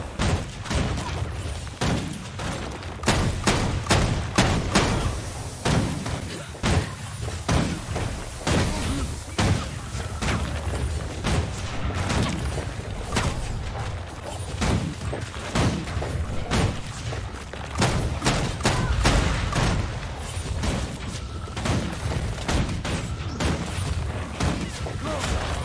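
Dense, rapid mortar barrage in Guild Wars 2, a steady volley of thumping blasts and booms crowding the whole stretch at close range, with faint voices mixed underneath.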